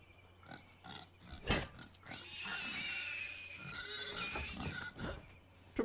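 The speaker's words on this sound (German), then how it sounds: "Tut mir leid, Schweinchen." Pig oinking and grunting in the video game Far Cry 5, several short snorts with a sustained squealing stretch in the middle, fairly close and with no talk over it.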